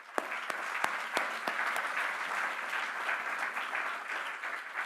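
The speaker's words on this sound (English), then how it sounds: "give an applause to all the faculty, college, and university" At a doctoral business graduation ceremony, the audience applauds faculty and the university with a moderately quiet, steady patter of clapping, several distinct sharp claps standing out early on.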